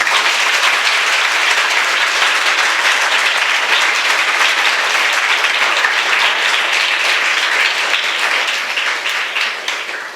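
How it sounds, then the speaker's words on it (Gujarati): A large audience at a school commemoration event breaks into loud, sustained applause from many hands, a dense steady clapping that carries on for about ten seconds before starting to fade. "એના માટે તાળીઓ થઈ જાય"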